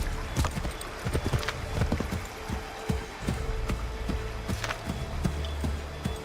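Horse hooves clip-clop at a steady riding pace during a ride in Assassin's Creed 3, the close rhythmic thuds layered over a faint trickling ambience.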